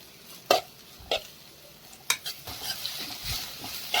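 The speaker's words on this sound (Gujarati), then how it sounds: "અને કોબીજ બંને એડ કરીશું અને બંને જ વસ્તુને સરસ ફાસ્ટ આપણે શેકી લઈએ" Onion and cabbage being stir-fried in a pan, with sharp scrapes and stirring strokes at intervals over a steady sizzle that builds toward the end; no voices.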